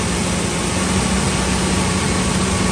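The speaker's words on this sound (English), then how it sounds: "It's a smooth running engine." A Ford F-series pickup's 5.4 engine idles steadily and smoothly after exhaust manifold replacement, a loud continuous rumble with no breaks or misfires.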